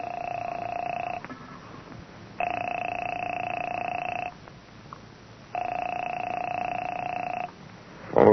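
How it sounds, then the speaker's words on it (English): Telephone ringing on the line, three long ring tones with pauses between them, steady and somewhat distant, with a brief click at the end. "Phone seemed to ring forever."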